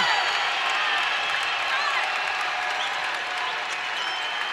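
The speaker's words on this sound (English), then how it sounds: "And the crowd comes to life here at the Cam Henderson Center." Basketball crowd at the Cam Henderson Center during a one-point college game, applauding and cheering in a loud, continuous wash of clapping and voices that fills the arena and eases slightly toward the end.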